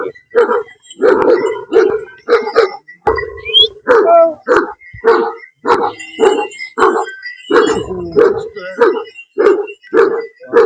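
A sheepdog barks over and over in a steady, rapid rhythm, loud and close, with whimpering yips mixed in and voices faintly underneath.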